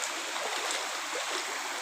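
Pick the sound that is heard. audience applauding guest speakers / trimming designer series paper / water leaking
water leaking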